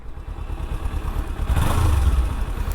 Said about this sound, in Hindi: एंड अभी अपन सुनेंगे इसका साउंड, एकदम प्यार से चालू हो जाएगा